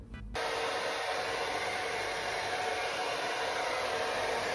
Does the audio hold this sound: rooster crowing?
no